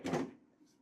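Samsung freezer drawer in a motorhome kitchen pulled open with one short sliding rumble, followed by a faint soft click, quiet and close.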